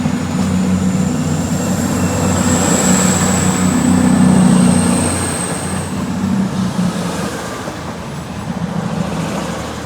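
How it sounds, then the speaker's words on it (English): An HST high-speed diesel passenger train departing Plymouth station for Penzance rumbles steadily nearby with a low droning engine and a thin high whine, swelling then easing off as it pulls away. "Here is my train leaving Plymouth heading towards Penzance."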